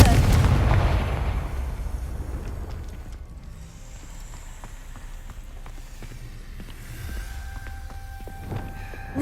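Confringo fire spell blast in the Hogwarts Legacy video game, a loud explosive burst at the start that decays into rumbling debris and faint game ambience.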